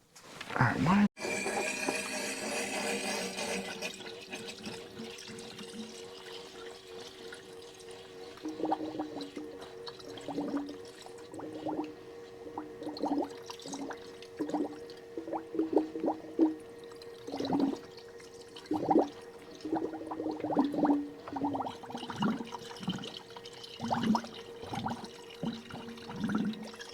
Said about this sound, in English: to let the pump turn on and start filling up the system